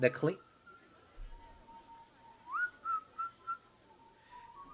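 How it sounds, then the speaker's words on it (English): A janitor character in the Planet Coaster video game whistling the game's theme tune while cleaning restrooms, a thin melodic whistle gliding between sustained notes, quiet and steady, after a brief spoken sound at the start. "You can hear the janitor whistling the Planet Coaster theme while cleaning the bathrooms."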